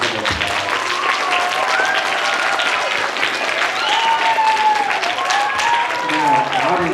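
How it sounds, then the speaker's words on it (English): Loud, sustained applause from a crowd at a student council presidential debate fills the room for several seconds, steady and unbroken, with a few voices calling out over the clapping. "let's give them a big, loud round of applause."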